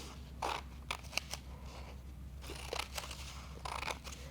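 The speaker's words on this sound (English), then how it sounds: "You're going to cut all the way to the line." Scissors snip through folded copy paper cut along a line for paper flower stems, a series of quiet, close crisp cuts and rustles coming in short irregular bursts.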